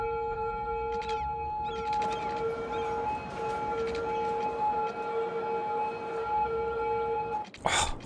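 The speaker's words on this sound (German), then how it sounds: "ich kann die Sirenen nicht mehr hören, ist ja schrecklich" Emergency vehicle sirens in the city-building game Cities: Skylines wail as sustained, steady tones throughout, with a voice talking over them and a sharp burst of noise near the end.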